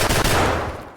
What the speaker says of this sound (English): there's a guy just to my right that starts shooting at me.